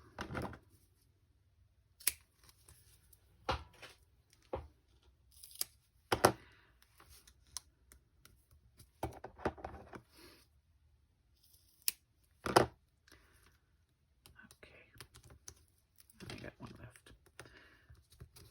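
Scattered crisp snips and clicks of very sharp scissors cutting adhesive material for cardmaking, coming in irregular bursts with quiet gaps between.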